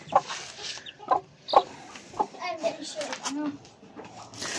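Chicks and young turkeys cluck and peep while being fed, short calls scattered close by as people talk over them.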